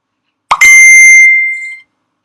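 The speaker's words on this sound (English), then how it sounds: "that is the tone of a message arriving." The Qtor message arrival notification tone sounds once, a short bright bell-like chime that rings clearly and fades over about a second, alone in silence.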